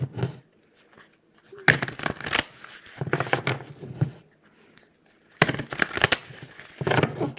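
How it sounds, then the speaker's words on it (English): Tarot cards ruffle-shuffled by hand, one stack and then another, in several short bursts of crisp riffling crackle separated by brief pauses, close and fairly loud. "Ruffle shuffle these and then ruffle shuffle the other ones."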